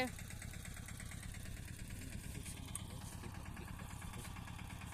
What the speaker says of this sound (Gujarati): આપણા પપ્પા ટ્રેક્ટર ચલાવી રહ્યા છે જો